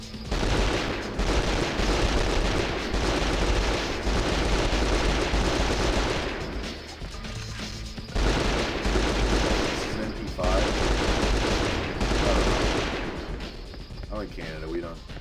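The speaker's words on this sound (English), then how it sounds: "Let's switch to the shotgun. Wow, they're really coming at me." Dense, continuous video game gunfire with heavy booming blasts in long loud bursts broken by brief lulls, close and overwhelming, with a voice faintly audible underneath.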